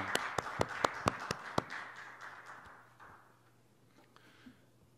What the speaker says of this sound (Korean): 우리 하나님께 영광을 박수하겠습니다.